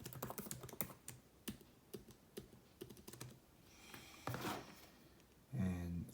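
Fingers typing a password on a computer keyboard, close and clear, with quick uneven key clicks for a few seconds, then a pause and a brief voice near the end.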